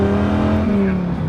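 Dodge Viper sports car pulling away from a stop with wheel hop, a loud close engine drone under load with a shuddering, pulsing judder as the tyres hop, over about a second and a half.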